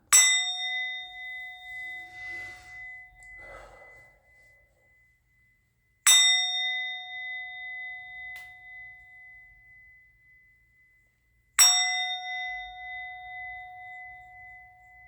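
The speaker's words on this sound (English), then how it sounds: "I'm going to ring the bell." A bell is struck three times at even intervals of about six seconds, each strike ringing out with a bright, clear tone that decays slowly into silence, heard alone.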